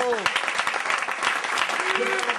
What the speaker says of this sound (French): Je vous demande de faire un tonnerre d'applaudissements pour l'homme que l'on nomme Selecta Seb